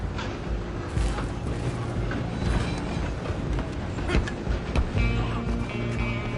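A train in the Western game Red Dead Redemption 2 gives off a continuous rumbling roar with rhythmic clatter and a metallic squeal near the end.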